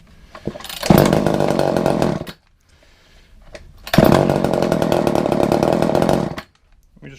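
An old chainsaw that had been sitting unused fires up and runs in two loud, close bursts of revving engine noise, each a couple of seconds long, with a brief quiet gap between them and no talking.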